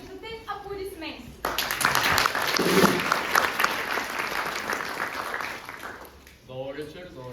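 An audience at a Bulgarian variety show breaks into loud, sustained applause and clapping that fills several seconds, with a voice speaking briefly before it starts and again as it fades.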